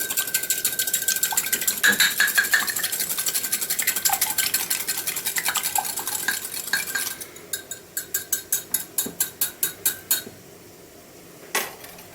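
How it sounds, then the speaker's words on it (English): Two eggs whisked in a bowl: a fast, continuous metallic rattle that slows into about a dozen distinct clicking strokes, then a final tap, close and alone. "I'm just going to whisk them up"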